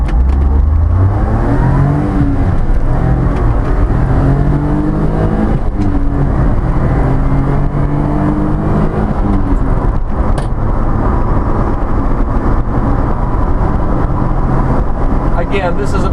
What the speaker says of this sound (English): You don't really want to rev that engine more than that.